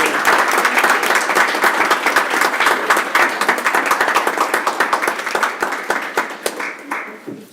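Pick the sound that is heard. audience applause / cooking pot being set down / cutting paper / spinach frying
audience applause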